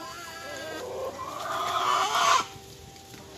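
Backyard chickens, including a Sussex hen, cluck and squawk close by at feeding time, a short run of rising, excited calls that swells and then breaks off, with no talk over it.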